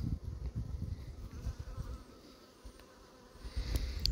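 A hornet and bees buzz steadily around beehives at an outdoor apiary, a close droning hum that fades briefly midway and then swells again, with no voices.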